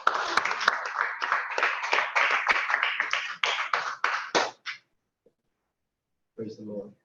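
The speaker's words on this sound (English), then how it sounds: "Let's give a round of applause." A dense round of applause rings out in a hall at a church anniversary celebration, steady for several seconds before stopping abruptly; after a short silence a voice begins speaking.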